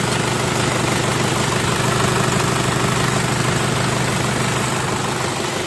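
A 2002 Isuzu Panther Box diesel engine idling, a steady, loud, rumbling drone with even low knocking throughout and no talk.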